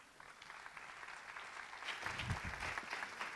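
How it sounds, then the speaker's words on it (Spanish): A crowd at an education and technology talk applauds to welcome a speaker, with a steady patter of clapping that swells somewhat louder toward the end. "La recibimos con un aplauso."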